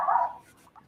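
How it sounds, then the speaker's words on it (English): A poodle barks once in a backyard, a short, fairly faint yelp at the start, followed by quieter, thin noises. "I want to apologize for my poodle. She's barking in the backyard."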